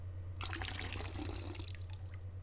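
Water pouring and splashing in the photo development scene of the adventure game Unforeseen Incidents, a steady running trickle over a low hum, starting abruptly and continuing to the end.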